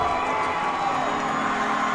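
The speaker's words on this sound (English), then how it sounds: "Tabiona getting their crowd up cheering." Tabiona fans cheer at a state tournament semifinal basketball game against Rich: a steady, dense crowd roar with shouts and whoops, filling the gym evenly throughout.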